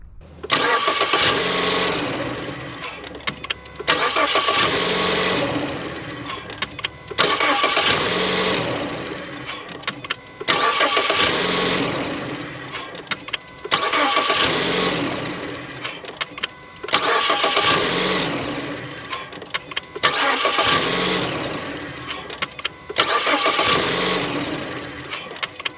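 A 2013-2016 Ford Escape engine cranks and fires up with its serpentine belt removed, repeated in a regular cycle of about eight starts, each a loud burst of cranking that settles into running before cutting off.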